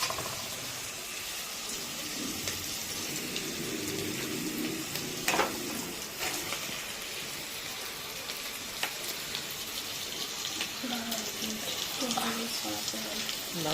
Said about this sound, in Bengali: এইবারে দিয়ে দেবো ধুয়ে রাখা খাসির মাংস।